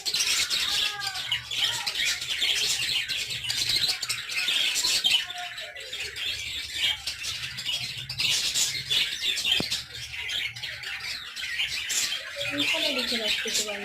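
Birds call and squawk outdoors at a birdwatching spot, a busy mix of chirps and harsh squawks continuing throughout, with a few faint voices in the background.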